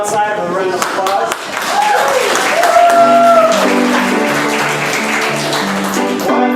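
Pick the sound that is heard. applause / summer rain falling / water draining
applause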